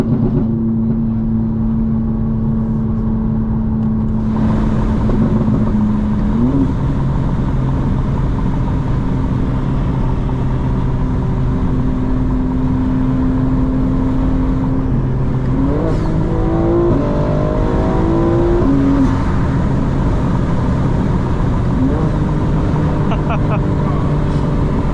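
A 900 hp 2025 BMW M4 Competition xDrive engine screams loud and close in fifth gear at night, a sustained high drone that climbs steadily, with brief pitch sweeps at shifts and a rough, continuous roar underneath.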